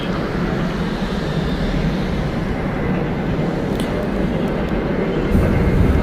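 A Spirit Airlines Airbus A320 departs Atlanta Hartsfield-Jackson bound for Minneapolis, a loud steady low jet rumble and roar that swells slightly near the end.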